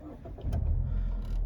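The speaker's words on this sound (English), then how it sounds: "press that starter button, and car comes into life" A Mazda 6 2.0 145PS SE-L Tourer estate with a manual gearbox is started by push button; a brief click is followed by the engine catching and settling into a steady, close idle rumble.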